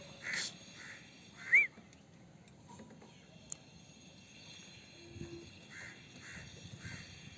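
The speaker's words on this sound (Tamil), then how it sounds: "காக்காங்க தான் தொத்துன்னு நினைக்கிறேன்." Crows caw outdoors near a pigeon house, a few scattered calls with one louder close caw among fainter distant ones over a low, steady background hum.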